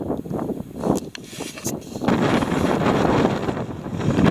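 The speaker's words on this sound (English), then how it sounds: "It's really windy here." Strong wind on the Mam Tor hilltop buffets the microphone in heavy, roaring gusts that grow steadier and louder, with no other sounds.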